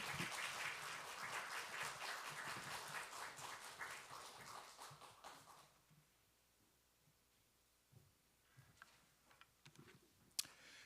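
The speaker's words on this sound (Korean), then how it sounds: "박수로 환영하겠습니다." A church audience applauds to welcome a missions professor taking the stage for an evening special lecture; dense clapping fills the first half and then thins to scattered claps, ticks and faint room noise.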